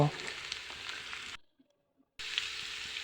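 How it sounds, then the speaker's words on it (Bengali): Potatoes and papaya tossed with fried onions in a hot pan give a soft sizzle with scraping stirs. The sound breaks off into near silence partway through and then the faint frying resumes. "এখন আমি আলু এবং পেঁপেগুলো যে কেটে রেখেছিলাম সেগুলো দিয়ে পেঁয়াজটার সাথে ভালোভাবে নেড়েচেড়ে একসাথে মিশিয়ে নেব"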